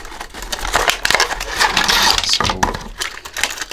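Plastic packaging of a Matchbox Super Trucks toy being pulled open, a dense, close run of crinkling, crackling and snapping plastic bursts that continues unevenly throughout.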